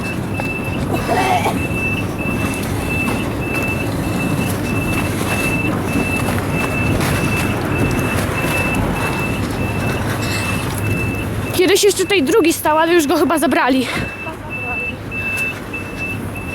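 A 105Na tram being shunted backwards toward scrapping sounds steady warning beeps over a loud idling drone, with a brief louder mechanical burst midway and a voice talking nearby.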